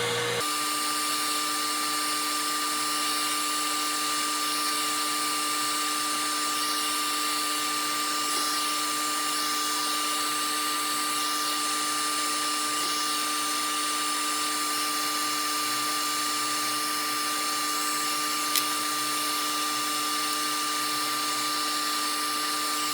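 A dental lab rotary tool spins a cutting disc to trim dental dies, producing a steady, high-pitched continuous whine that stays constant throughout with no talking.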